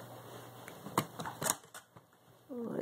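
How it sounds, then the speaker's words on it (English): A flathead screwdriver backing screws out of the bellows mount of a Polaroid 180/195 Land Camera: a few faint, sharp metallic clicks and scrapes spaced apart, close and quiet, with a brief rustle of handling at the end. "take your flathead screwdriver and just remove the screws"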